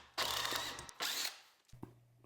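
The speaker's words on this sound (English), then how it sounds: "drilling the countersink holes" Power drill boring countersink holes in long wooden boards, two short whirring bursts separated by a pause, then the motor starting again, close and fairly quiet.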